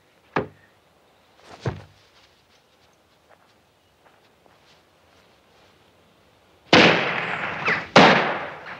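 Pistol shots fired at a hat in an old-fashioned setting: two sharp isolated cracks early on, then after a pause two louder, closer blasts in quick succession with a rumbling tail.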